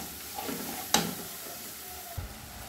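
Boiled-and-ground spice paste for hotel-style egg curry sautéing over medium heat, a low sizzle with a single sharp scrape of the spatula, brief and close with no talk.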